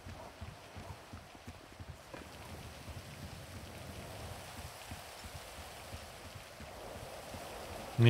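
Steady rainfall in the video game GTA 5 patters continuously, a soft even hiss of drops with faint scattered taps underneath.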